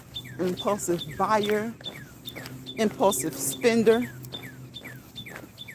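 Birds chirp and tweet in short bursts while a person talks over them, the calls fairly close and lively.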